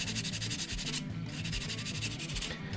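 A guitar neck tenon being scuffed before glue-up gives close, steady abrasive rasping strokes, with a brief pause near the one-second mark before the rubbing resumes.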